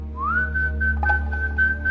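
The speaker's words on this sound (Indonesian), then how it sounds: "Dengan santai sambil bersiul" A casual, relaxed whistle that glides upward into a steady held note, with small wavering ornaments, carried alone over a low background hum.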